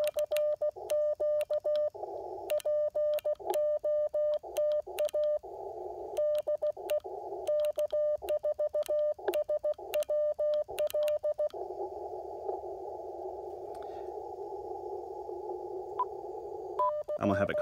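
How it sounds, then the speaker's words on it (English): An Icom IC-705 radio sends a Morse code CW sidetone as crisp, steady dots and dashes in a single tone. The rhythmic keying goes on throughout, and the last few seconds turn into a long continuous run of tone. "I'm gonna have it call CW for me"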